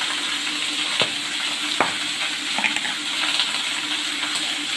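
Mixed vegetables for labra curry frying in a pan after salt is added, a steady wet sizzle and hiss with a couple of sharp clinks of a utensil, close and without talk.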